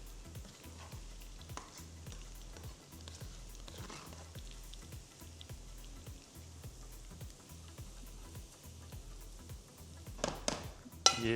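Fresh raw turmeric fries in ghee with a steady crackling sizzle and a regular, pulsing bubbling underneath, then a few louder scrapes and clinks near the end as it is stirred and lifted out.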